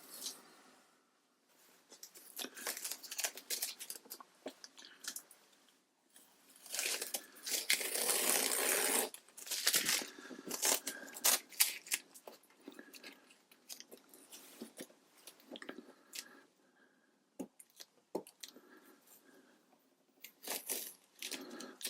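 Tape peeled sideways off a sheet of 100% cotton watercolor paper, heard as a long series of dry tearing and crinkling rips, close and moderately loud, with short pauses between pulls.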